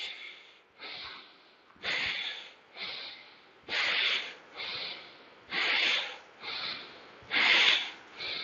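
A person does a home breathing exercise for Covid-19 recovery, pushing out about eight forceful, rushing exhales in a regular rhythm with brief quiet gaps between, close to the microphone and without speech.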